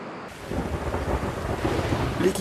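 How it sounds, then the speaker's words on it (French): A thunderstorm with rain heard during a science-fiction film shoot in the Grand Canyon of the Colorado: a continuous heavy rumbling wash of rain and low thunder, fairly loud and steady, with no voices. "c'est maintenant l'orage qui s'abat sur nous"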